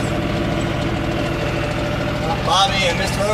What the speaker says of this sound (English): Moving tractors.